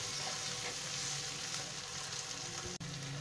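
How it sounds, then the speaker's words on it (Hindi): Onions and tomatoes fry in a pan for a tadka dal, giving a steady, close sizzle that holds even throughout with one brief dip near the end and no talking. "अब इसे भी हम 2 मिनट तक टमाटर को गलने तक भून लेंगे।"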